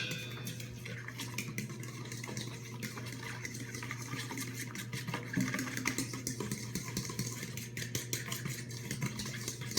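Chocolate chip cookie dough being mixed by hand in a bowl, a continuous scraping and stirring with clinks of utensil against the bowl over a steady background hum, no talk.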